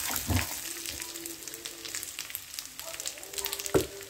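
Fried rice frying in a pan, a faint, steady sizzle with a few soft stirring scrapes and knocks, heard close and quiet.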